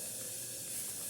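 Fish frying in a pan at home, a steady, dense sizzle and hiss that continues unbroken and fairly close throughout, with no voices.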